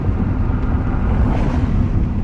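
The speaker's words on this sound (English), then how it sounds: "It's just so windy right now that it's really difficult to do that." Strong outdoor wind buffets the microphone in a continuous, loud, rumbling roar that drowns out everything else.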